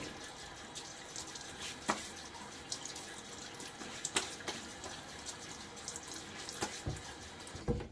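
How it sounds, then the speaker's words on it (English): Water splashed onto the face at a bathroom sink during a shave, close-up running tap flow with several sharp splashes and drips scattered irregularly over about eight seconds, no voices. "Splash my face a little bit."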